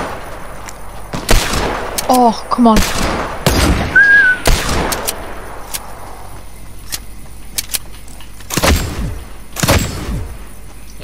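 Hand cannon shots fired in a first-person shooter video game, several sharp loud bangs spread irregularly across the scene, mixed with other game effects and a brief spoken exclamation.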